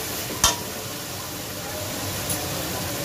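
Masala paste with ground coriander fries in released oil with a steady close sizzle and hiss, broken by a sharp utensil click and a softer tap later on.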